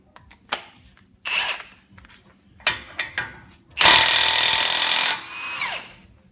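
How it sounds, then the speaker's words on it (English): An impact gun loosens bolts on a 2006 Toyota Sequoia during wheel bearing and suspension work, firing in several short, sharp bursts and then one long, loud rattling run near the microphone. "Okay, I'm ready to hit it with the impact gun"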